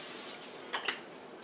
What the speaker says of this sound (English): spray cooking oil on there